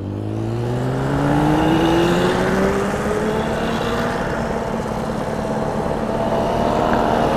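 A mobylette moped engine drones while riding, its pitch climbing smoothly as it accelerates, then holding a steady buzzing whine close by with no speech.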